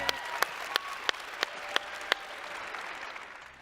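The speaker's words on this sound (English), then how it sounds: "Give Hillary a big round of applause," An audience applauds at a network marketing sales seminar, with several sharp, loud claps standing out at regular intervals over softer clapping that gradually fades toward the end.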